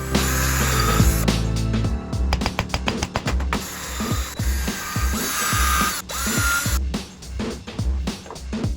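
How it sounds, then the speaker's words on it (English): A power drill whirs in short repeated bursts with clicking and ratcheting between them, close and steady, without speech, drilling a series of shelf plug holes in a cabinet using a jig. "a handy cabinet jig to drill a series of shelf plug holes"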